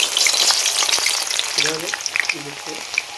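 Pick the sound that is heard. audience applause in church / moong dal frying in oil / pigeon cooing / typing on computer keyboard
moong dal frying in oil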